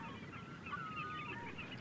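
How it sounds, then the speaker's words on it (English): Goose-like wild birds on the estuary at Northam Burrows give faint, scattered honking calls from a distance over steady ambient background, with no talk. "Others enjoy the sight and sound of the multitudes of wild birds"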